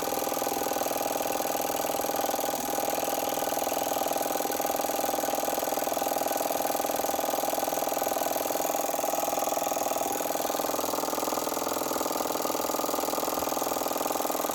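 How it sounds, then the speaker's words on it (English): A pump on a sailboat circulates fluid through a filter and back into the tank, giving a steady, continuous motorized hum that holds unchanged throughout at moderate loudness, with no speech. "I still got it set up so that it's pumping through the filter and then returning right back into the tank"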